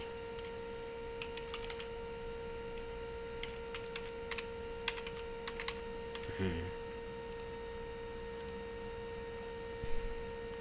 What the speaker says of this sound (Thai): ผมก็พิมพ์ครับ